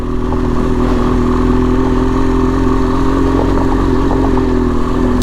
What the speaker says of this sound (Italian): La ventola si è accesa, siamo a oltre 100 gradi di motore.